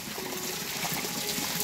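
Fresh drinking water trickling steadily on a hiking trail while someone drinks, a soft, continuous gurgling splash heard up close.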